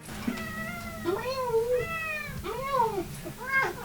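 A cat meows several times in a row, each call a rising and falling wail, close by and fairly loud, with a low rumble underneath.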